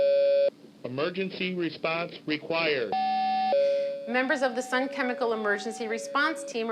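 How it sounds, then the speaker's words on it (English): An emergency response required alarm at a Sun Chemical plant plays as a steady electronic tone near the start and returns between stretches of a paging announcement, with a voice talking over much of the clip. "The emergency response required alarm sounds like this."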